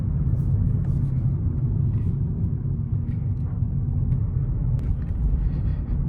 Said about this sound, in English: we're just gonna go for a quiet POV drive, and maybe do a bit of highway driving